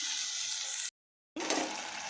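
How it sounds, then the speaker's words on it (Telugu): Water pours into a pan of moong dal being cooked for a drumstick-leaf curry, a steady rushing splash that stops briefly and then resumes. "కొన్ని వాటర్ వేసుకున్నా"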